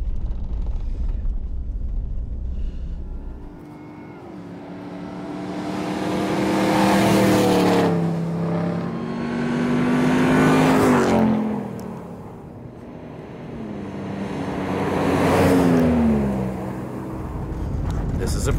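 A rally truck engine drones steadily on an off-road desert run in the Mojave, swelling and easing in several long revving surges, with people talking over it throughout.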